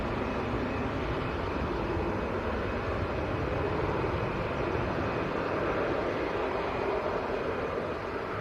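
An EasyJet airliner bound for Athens rumbles at Manchester Airport, a steady, fairly loud broadband engine roar with a faint high whine, continuous and unbroken throughout.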